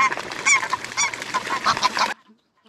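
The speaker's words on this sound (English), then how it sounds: "So those are some geese" Several geese honk loudly and repeatedly in a noisy overlapping chorus that stops abruptly, leaving near silence.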